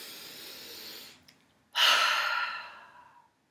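A person breathes deeply during a calm guided breathing exercise, drawing a long steady breath in, pausing briefly, then releasing a big, loud airy exhale that trails off slowly into silence.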